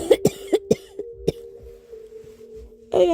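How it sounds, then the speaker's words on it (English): A burst of several sharp, close coughs in quick succession, a pause with faint breathing, then another cough at the end. "I haven't stopped coughing up whatever this is."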